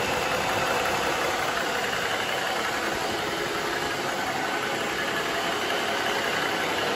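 A New Warrior Luxury 2.0 kW high-pressure air compressor runs continuously at a steady level, giving a dense, even mechanical drone with no talking.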